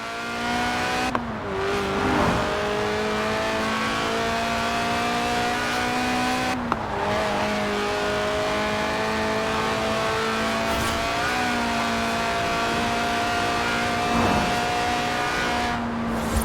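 A tuned, stripped-out Lotus Elise Sport 190, a mid-engined rear-wheel-drive roadster, drives in Forza Horizon 4, its engine droning loud and steady and climbing through the gears with brief dips at each upshift.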